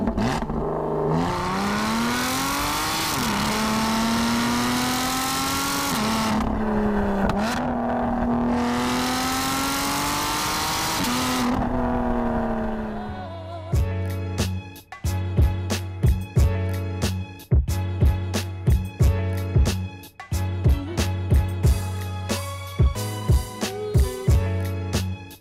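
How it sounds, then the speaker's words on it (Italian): Lotus Evora 400 sports car engine revs loudly and steadily for about twelve seconds with rising and falling pitch, then a series of sharp, rhythmic mechanical knocks and bangs follow, close and loud, with no talking. "oggi ci facciamo un giretto con una Lotus che spacca i timpani"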